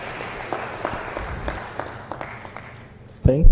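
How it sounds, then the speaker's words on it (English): Scattered applause from an audience at an innovation week event in Nairobi, sparse and moderate claps fading out before a voice starts up loudly near the end. "we can clap for her"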